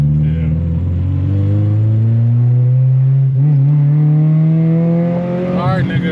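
A Honda Civic engine revs and accelerates up close, its steady drone climbing in pitch, with a grinding from the second gear and voices talking over it inside the car.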